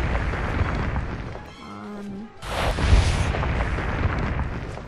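An explosion in the video game Owlboy, a loud booming roar with a brief lull before a second heavy burst that rumbles on to the end amid game sound, close and dense.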